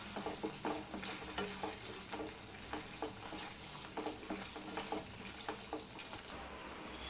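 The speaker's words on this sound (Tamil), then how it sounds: "போட்டு கலந்து விட்டு சும்மா ஒரு 2 நிமிஷத்துக்கு இதை ஸ்டவ்லேயே வச்சுக்கலாம்." Tomato pickle with mustard-fenugreek powder cooks on a stove, a steady sizzle under repeated rhythmic scrapes of stirring, close and moderately loud.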